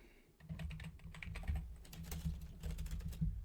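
A computer keyboard is typed on in a quick, steady burst of close, crisp key clicks, with a low hum running underneath.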